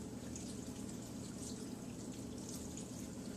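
Filtered water runs steadily into a cooking pot for vegetable broth, a continuous close splashing and trickling fill with no voices over it.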